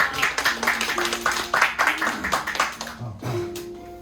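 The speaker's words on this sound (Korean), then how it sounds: "자, 박수 주세요" Audience at a school project presentation applauding, a burst of many hands clapping nearby that fades out toward the end, with brief voices under it.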